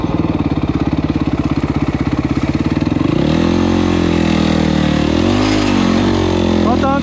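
Quad bike engine revving hard outdoors at night, a rapid pulsing idle that climbs into a sustained high-pitched rev, loud and close throughout.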